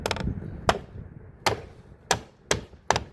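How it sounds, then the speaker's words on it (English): A hammer drives small 5/8-inch round-head brass nails into 1/4-inch plywood trim around a skylight shaft, six sharp close taps spaced unevenly, with no talking. "a piece of 1/4-inch plywood with some little 5/8 brass nails with round heads"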